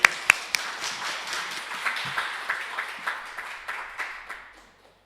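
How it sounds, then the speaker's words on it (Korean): A church congregation claps during a worship service, a few sharp near claps at first then a rhythmic, fairly soft run of claps that slows and fades away. "주님께 영광의 박수 올립니다."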